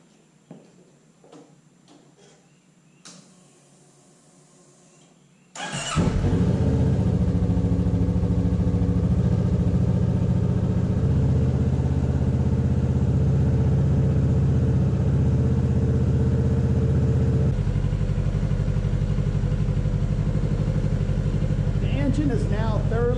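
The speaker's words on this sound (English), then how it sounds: "Step 2 is to warm the engine up thoroughly." A 2023 Kawasaki Ninja 650 engine cranks and fires up after a few seconds of quiet, then settles into a loud, steady warm-up idle with a deep rumble that continues to the end.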